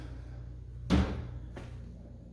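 A sliding door on a newly built house in Brooklyn slides along its track once with a soft rumbling thud, then a quieter second movement follows, fairly close with no talking.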